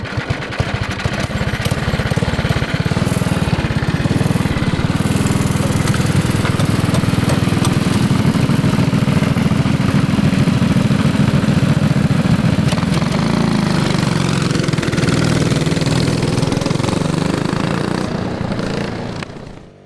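A modified Tillotson 212 racing kart engine runs loud and close, a rough, steady, buzzing drone that holds for most of the stretch before tapering off and cutting out at the end.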